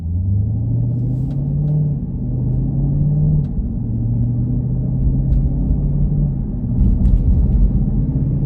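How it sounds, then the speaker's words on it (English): A Jeep Grand Cherokee SRT in sport mode drives with a loud, steady engine rumble, the pitch rising and then dropping in several distinct steps as it shifts, a close, continuous drone with no talking. "Now you'll notice far louder downshifts."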